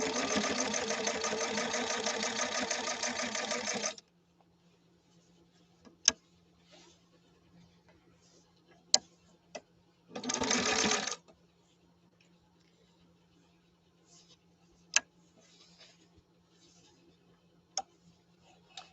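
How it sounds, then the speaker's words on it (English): A 1931 Singer 101-4 household sewing machine stitches through eight layers in a loud steady run at the start, then a second short burst later, with scattered clicks and ticks in the quiet between. "8 layers on a household sewing machine is not a common practice"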